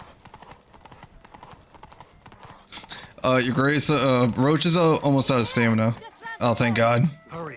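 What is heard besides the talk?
horse Roach galloping, from a video game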